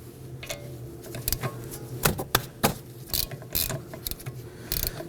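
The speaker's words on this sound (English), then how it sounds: "there are 2 14mm bolts holding the calipers, one up top, one on the bottom. Let's go ahead and loosen and remove these." A ratchet clicks in short uneven bursts while loosening 14mm brake caliper bolts on a 2018-2024 Toyota Camry, close and crisp, with pauses between the clattering pawl runs.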